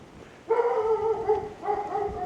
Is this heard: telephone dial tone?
no